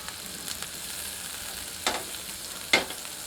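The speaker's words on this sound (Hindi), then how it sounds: "दूसरी ओर भी 3 मिनट ग्रिल करते हैं।" A burger tikki grills on its second side, giving a soft, steady sizzle with a few sharp clicks and pops scattered throughout and no voices.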